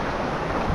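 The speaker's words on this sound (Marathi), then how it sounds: "नदीला पण पाणी बघा पूर आलाय मस्त" Rushing water from a river in flood during heavy monsoon rain, a steady broadband roar filling the short stretch without pause, close and loud, cutting off abruptly at the end.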